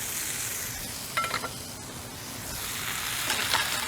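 Sliced garlic sizzles in a cast iron pot for chicken soup, a steady close crackle with a few clinks and scrapes of a utensil as it is stirred.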